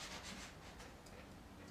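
Sandpaper rubbing steadily over a small cap from a Huffy Scout 24-inch kids' bike, a continuous close scratchy hiss with faint rhythmic strokes and no talking.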